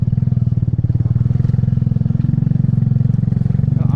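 A motorcycle crawls at low RPM over a rocky mountain trail, its engine chugging in a steady, loud, even pulse close by, with faint clatter underneath and no talk.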